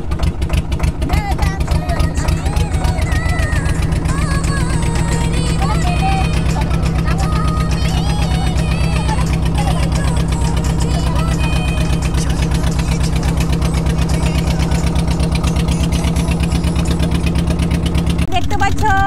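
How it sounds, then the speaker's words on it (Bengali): A motor boat engine drones steadily on the water during a family picnic outing, a loud continuous low hum throughout, with people's voices over it. "বোট চলছে"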